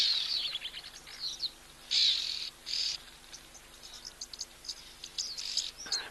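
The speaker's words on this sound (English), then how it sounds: "So that big group of birds there, I'm pretty sure, were wattled starlings outside of breeding plumage." Wattled starlings calling as a flock outdoors at a waterhole, a jumble of high chirps and chatter in scattered bursts over faint insect hum, moderately distant.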